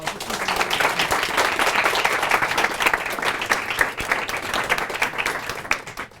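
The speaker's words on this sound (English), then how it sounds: "Can we get a round of applause?" A workshop audience gives a round of applause, dense sustained clapping from many hands filling the room, fading slightly toward the end.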